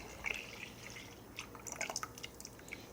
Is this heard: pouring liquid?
yes